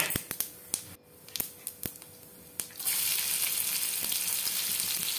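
Chopped garlic and whole cumin seeds fry in hot mustard oil in a pan. A few sharp utensil clicks and taps come first, then a loud, steady sizzle rises and continues close by, with no talking.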